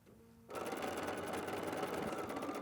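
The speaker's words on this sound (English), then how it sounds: "So I will go ahead and sew from this side." A sewing machine stitches quilting fabric that has a fusible grid. After a brief quiet start it kicks in with a loud, fast, steady mechanical chatter that runs close and continuous to the end, with no talk.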